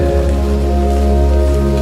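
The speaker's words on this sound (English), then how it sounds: "The rain taps the window in waves, as though curtains of water are opening and closing overhead." Rain taps steadily against a window in a continuous, dense wash of sound, loud and close, with gusty wind adding a broad roaring layer underneath.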